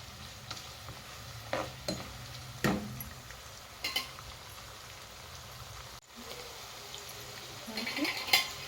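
Chopped green chillies frying in a pan for green rice, a quiet steady sizzle with occasional stirring clicks and scrapes of the spoon.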